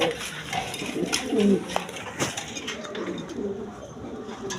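Pigeons kept in pairs with eggs and chicks coo in a small cage, low warbling calls coming in short bursts, fairly close, with faint clinks and rustling around them.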